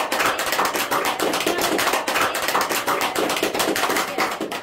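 Applause in a classroom during a university microteaching session, many hands clapping quickly and steadily for a student throughout, loud and close, with no talk over it.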